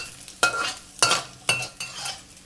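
A utensil scrapes through garlic frying in oil, giving three or four distinct scraping strokes about half a second apart over a steady soft sizzle, close by.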